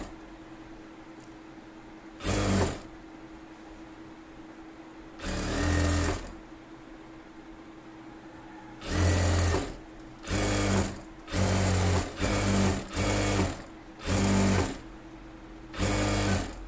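A sewing machine stitches the front of a 40-inch blouse, running in repeated loud bursts of a few seconds each, with short pauses between runs and more frequent starts toward the end.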